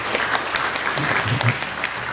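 Brief burst of steady hand clapping for the children at a community charity gathering, moderately loud and continuous with scattered crowd murmur.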